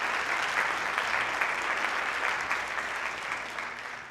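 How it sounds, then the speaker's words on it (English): An audience at a State of the District address gives a band another round of applause, a continuous crowd clapping that holds steady, then slowly fades toward the end. "Let's give them another round of applause."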